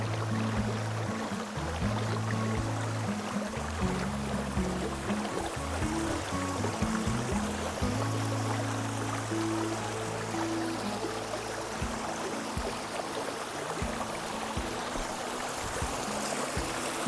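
A stream of water flowing through the Morni Hills near Chandigarh, a steady, fairly faint rushing and trickling wash that continues unbroken, with low hum-like tones underneath.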